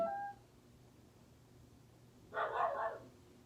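A pet dog barks indoors during a home warm-up workout, a short faint burst of a couple of yips in the background of an otherwise quiet room.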